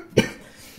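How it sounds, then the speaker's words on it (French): A single sharp cough bursts out close by, followed by a brief fading rasp and quiet room noise. "Je me suis encore étouffé à force de tousser."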